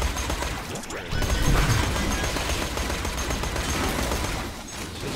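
Rapid bursts of automatic gunfire from the Bad Touch weapon in Borderlands 2, a dense, continuous crackle of shots with impacts, loud and close throughout the clip with no pause.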